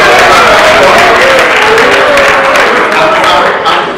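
A conference audience breaks into loud, sustained applause that fills the room for several seconds with a crowd murmur underneath, then slowly tapers off.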